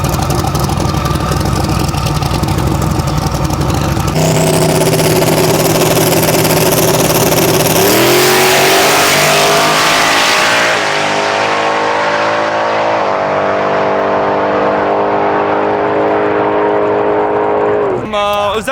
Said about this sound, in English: It was actually a pretty decent run overall. The car kind of did what it should have done.